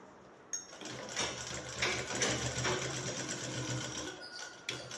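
A sewing machine stitches shirt collar fabric folded over canvas, starting abruptly and running as a steady, close, rapid whirring stitch for several seconds, with a brief pause before it resumes.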